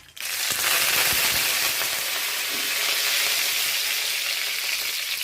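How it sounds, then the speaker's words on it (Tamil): Mustard seeds splutter and crackle in hot ghee mixed with oil in a pan, a steady, close, dense sizzle with tiny pops that starts abruptly and holds loud throughout without any talk. "காஞ்சிடுத்து கடுகு மட்டும் தாளிச்சு கொட்டணும்"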